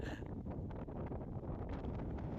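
Strong wind roars steadily across the microphone in a dense, low rumble, loud and continuous with no voices, out in the open at sea.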